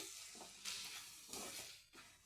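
Onion, tomato and spice masala stirred in a pan with mushrooms nearby, giving faint sizzling and scraping swishes in a few quick strokes.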